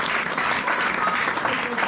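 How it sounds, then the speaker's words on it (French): A church congregation applauds and cheers for the fathers during a service, a dense burst of clapping from a crowd close around. Voices call out over the clapping. "Ah, acclamons pour les papas alors."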